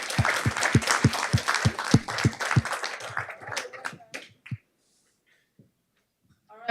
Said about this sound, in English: A big round of applause for Vivian Zhang.